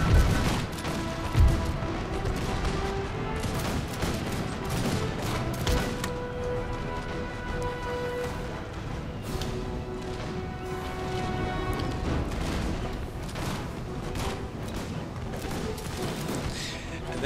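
Dense, continuous battle din from Empire: Total War, with musket volleys from line infantry and cannon fire blending into a loud, unbroken wash of crackling gunfire and booms.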